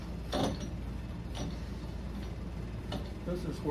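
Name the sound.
engaging a spindle lock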